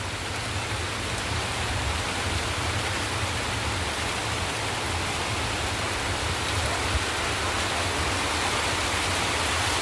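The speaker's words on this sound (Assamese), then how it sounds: "এয়া দেখিছেনে কেনেকৈ বতাহ মাৰিছে, বৰষুণ দিছে।" Rain pours steadily with wind in an Assamese village morning, a dense even hiss of drops close by that stays at the same level throughout with no voices.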